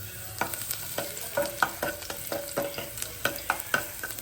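Hot oil tempering with mustard seeds and garlic, crackling and popping in quick irregular bursts over a soft continuous sizzle, close and moderately loud.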